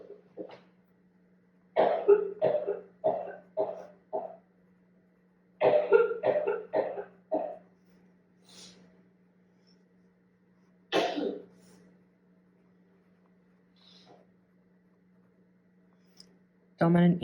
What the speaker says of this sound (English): my wife's having a coughing fit in the background